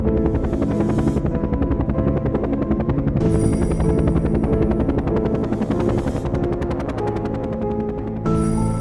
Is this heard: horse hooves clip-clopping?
no